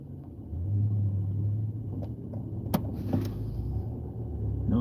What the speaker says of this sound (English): No, that's my car.